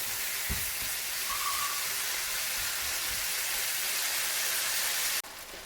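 Tomatoes cook for chole, giving off a soft, steady broadband sizzle and hiss that holds evenly for several seconds, close and unaccompanied by talk, before cutting off abruptly near the end.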